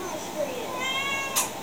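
A cat meows softly once or twice, a thin high call rising and falling over a quiet indoor background.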